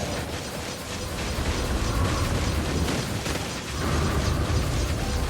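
Continuous weapon fire in the Genshin Impact video game, a loud clattering stream of rapid shots and bursts, with a brief dip partway through before resuming at full intensity, no talk.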